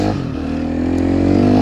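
A 2009 Sherco 250i fuel-injected four-stroke trail motorcycle idles loudly and close, with its engine note climbing steadily in a short rev that builds in pitch and volume.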